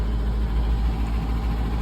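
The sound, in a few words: truck engine idling high without thermostat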